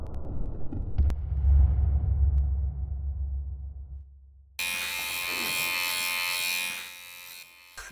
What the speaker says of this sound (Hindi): सिर पर चलता ये ट्रिमर